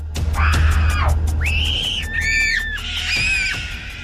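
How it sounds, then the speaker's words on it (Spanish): Two children screaming hysterically in terror at night after being put to bed, loud high-pitched wavering shrieks that rise and fall in several long overlapping bursts over a steady low hum. "Y en cuanto me alejé, comenzaron a gritar."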